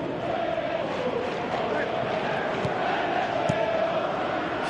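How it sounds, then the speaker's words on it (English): Stadium crowd in a PES 2017 football match, a broad continuous roar of cheering and chanting at steady, moderate loudness with brief sharp accents, under a commentator's voice. "Crowd appreciates good football all round there."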